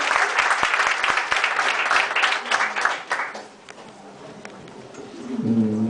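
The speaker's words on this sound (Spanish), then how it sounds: "vamos a recibirle con un aplauso" Audience applause welcoming a speaker at a Madrid vegetarian event workshop, dense clapping for about three seconds that fades out, followed by quiet room noise and a low voice starting to speak.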